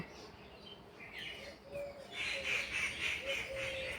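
Birds in morning trees call from the branches, a few short chirps and whistled notes repeating over a soft, steady outdoor hush, faint and somewhat distant.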